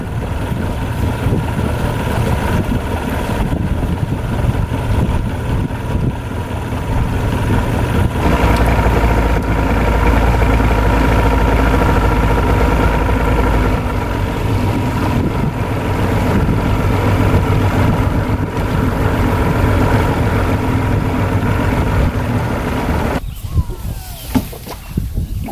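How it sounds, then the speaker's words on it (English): An abandoned fishing boat's engine runs steadily for the whole stretch, a loud, constant low drone with an idling hum that swells midway before cutting to a quieter, rougher tail near the end. "engine sounds really good."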